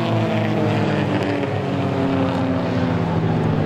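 Race cars in a Roadrunner heat roar around an oval track as the green flag comes back out, a loud, steady engine drone with no break and no talking.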